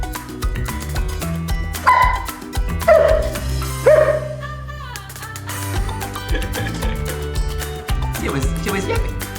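A German shepherd yaps and whimpers in short bursts close by at a family snack time, mixed in with ongoing talk and household noise.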